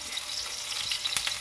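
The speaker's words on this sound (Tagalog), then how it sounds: "Dry prawn. Lagay na natin prito ko muna." Dried prawns fry in a pan with a steady, close hiss and crackle, a few sharper pops and scrapes rising briefly from the continuous sizzle, with no voices.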